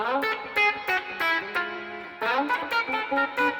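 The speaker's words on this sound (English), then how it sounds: "You can hear the pluck, and that's from me using my fingers." Guitar notes plucked with the fingers one after another, each with a sharp attack and ringing decay, forming a short melodic run with a brief pause midway.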